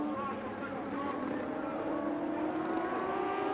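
A racing motorcycle at about 120 mph on the Alton Park circuit, heard onboard during a 1982 British championship race: a steady, high engine drone that slowly rises in pitch, continuous and fairly loud throughout.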